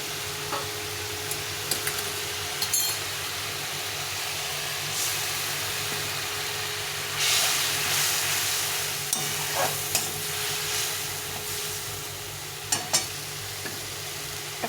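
Spice paste of ground spices and turmeric, masala for ghugni, frying and being stirred in a pan: a continuous sizzle with scraping stir strokes and occasional sharp spatula clinks, no talking.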